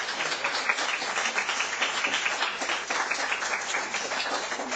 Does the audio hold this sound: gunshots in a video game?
no